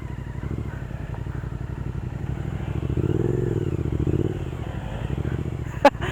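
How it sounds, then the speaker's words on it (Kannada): A motorcycle on a wet road during a morning ride near Bengaluru hums with a steady, close engine drone that swells briefly midway, ending with a sharp click. "ತಳ್ಬೇಕಾ ನೋಡ್ರಾ ಹೆಂಗೆ ಸ್ಲಿಪ್ ಆಗ್ತಾಯಿದೆ ಗಾಡಿ"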